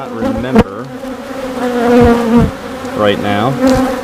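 Honeybees buzz loud and close around a backyard hive during an inspection, a dense continuous drone with individual bees swooping past the microphone and rising in pitch as they pass.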